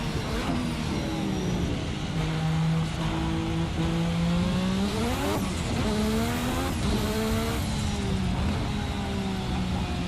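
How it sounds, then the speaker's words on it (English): Race car in a sim racing game spinning its wheels in 3rd gear, a loud steady engine drone with rising, wavering revs and high tire squeal as the wheels break loose, continuous with no talk. "that was wheel spin in 3rd gear"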